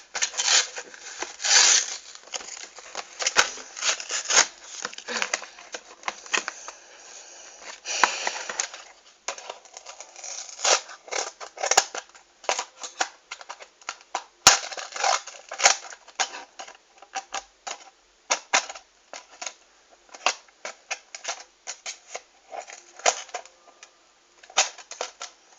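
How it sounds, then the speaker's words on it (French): Plastic and cardboard packaging of new art materials being torn and opened by hand, a dense run of sharp crinkles, snaps and rustles, close and busy throughout with brief pauses, no talking. "J'essaie d'ouvrir tout sans me couper un doigt."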